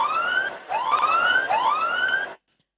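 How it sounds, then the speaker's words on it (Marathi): A siren wails at a cricket ground during a tournament match, three rising sweeps in a row, loud and clear before cutting off abruptly into silence. "सायरन वाजलं गेलंय अगदी डिझेमॅन यशच्या माध्यमानं देखील"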